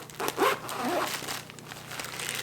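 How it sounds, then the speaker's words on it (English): Zipper drawn closed on a fabric tote bag as it is packed into its small pouch, a close, short rasping zip followed by soft crinkling fabric handling. "It zips into a handy pouch"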